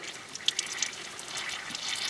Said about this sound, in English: pushing on these nipples here, getting the air out until water comes out